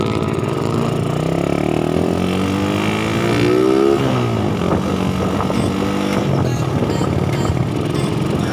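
An 800 cc motorcycle engine runs loudly up close, its pitch rising and falling as it revs and shifts, continuous throughout with no talking.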